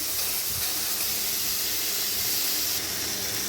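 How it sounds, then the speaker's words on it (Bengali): Boiled, drained mango pieces tipped into a hot wok set off a loud, steady hiss of steam and sizzling for several seconds with no voices. "কড়াই তো গরমই ছিল কড়াইয়ের মধ্যে আমগুলোকে দিয়ে দিচ্ছি"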